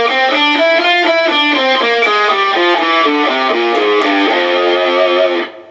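A distorted electric guitar runs steadily up and down a scale in quick, even notes, loud and sustained, fading out at the end.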